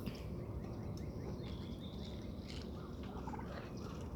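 A turkey gobbles faintly in a backyard flock, its quick rattling calls sitting low in the mix over a steady background hum, with no talking.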